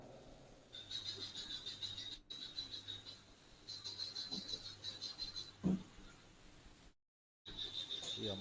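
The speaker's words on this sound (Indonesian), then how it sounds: "Atau memang suara jangkrik itu ya, Kak Nila?" Crickets chirp steadily in the background of an online class meeting, a faint, high, pulsing trill that carries on for several seconds with a brief dropout near the end.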